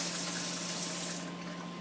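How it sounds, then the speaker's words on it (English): Water running from a sink tap in a nursing assessment room, a steady close hiss of flowing water that eases slightly toward the end. "Turn the water off."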